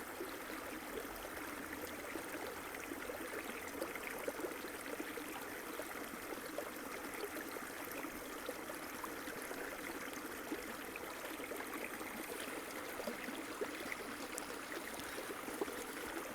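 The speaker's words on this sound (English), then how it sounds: "just concentrate on this beautiful water flowing" A gentle stream of water flows continuously, a soft, faint trickling and burbling murmur heard at a distance with no one speaking.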